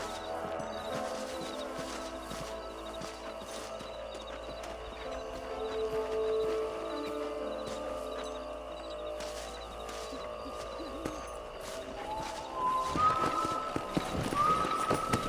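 Horse hoofbeats from the Red Dead Redemption video game, a steady clip-clop of riding under game music, growing busier toward the end.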